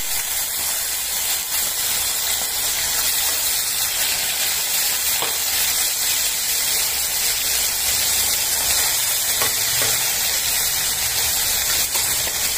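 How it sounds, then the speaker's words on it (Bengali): Fish frying in oil over a low flame for a green fish curry, a steady close sizzle and hiss running continuously with faint crackles and no talking. "কম আঁচেই মাছটা আমি ভাজবো"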